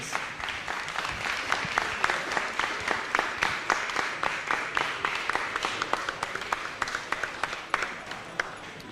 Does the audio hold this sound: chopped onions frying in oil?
no